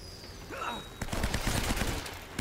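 Navarro's gunfire in Uncharted: Drake's Fortune, a rapid burst of shots starting abruptly after a quiet moment with a brief whoosh, crackling and close until the end.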